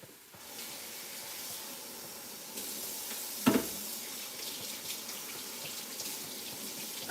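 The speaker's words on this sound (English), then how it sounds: "I'm just washing my hands." A kitchen tap runs as hands are washed beneath it, a steady close rush of water with a brief louder splash partway through.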